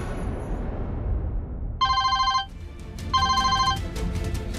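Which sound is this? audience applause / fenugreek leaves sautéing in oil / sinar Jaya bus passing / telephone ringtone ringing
telephone ringtone ringing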